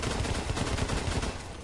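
Pistol fire in the video game Blacklight: Retribution, a rapid, dense string of loud gunshots filling the whole moment, close and continuous without pause.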